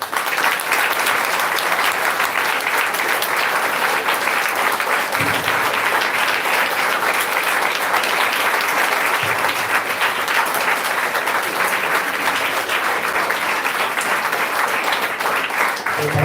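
Long, loud applause from a seated audience in a college hall after a speech at a teachers training college in Ajmer: dense, sustained clapping that holds steady at full volume for over sixteen seconds.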